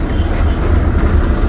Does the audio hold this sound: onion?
no